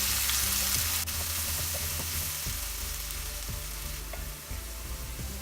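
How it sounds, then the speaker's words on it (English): Chopped onion frying in a pan for a pomfret fish curry, with a steady close sizzle and regular scraping stirs of a spatula throughout; no talking. "Add chopped onion. Keep stirring until it's golden."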